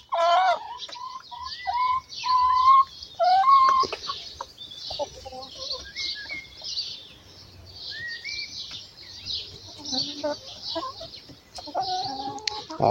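Four hens cluck and murmur nearby in a steady, overlapping chatter in a backyard henhouse, with occasional higher squawks rising above a continuous outdoor hiss.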